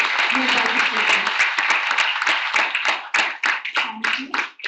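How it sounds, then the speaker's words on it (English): Students and guests at a college investiture ceremony clap for the students' efforts, loud close hand claps in a dense burst that thins into scattered separate claps toward the end. "can we give a big round of applause for all the efforts made by the students?"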